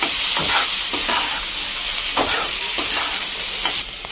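Coriander powder being stirred into a frying spice mixture in a pan, a steady sizzle under repeated scraping strokes of a spoon, close and fairly loud.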